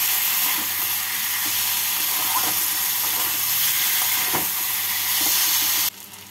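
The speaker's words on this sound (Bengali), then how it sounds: "মশলাটাকে ভালো করে কষিয়ে নিয়েছি" Spice paste for a fish curry (bata machher jhol) frying in a pan, giving a loud continuous sizzling hiss with faint stirring scrapes, which cuts off abruptly near the end.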